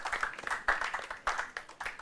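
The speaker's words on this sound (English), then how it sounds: "A round of applause for our contestants." Audience clapping for law contest contestants at a university moot challenge between Zenith University College and UPSA, a short, fairly faint patter of hand claps from a crowd.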